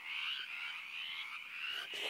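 A frog croaks loudly and continuously up close, a steady buzzing trill that holds for about two seconds with no voices.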